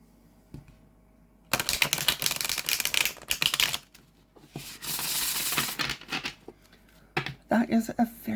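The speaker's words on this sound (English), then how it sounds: "That is a very, very nice shuffle." Tarot cards being shuffled up close in several bursts of crisp riffling and bridging, separated by short pauses, with a voice speaking briefly at the end.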